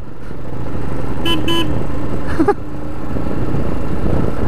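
Over idling engine and traffic noise, a car horn gives two short toots in a Road Runner "meep meep" pattern, close and clear, followed by a brief chirp.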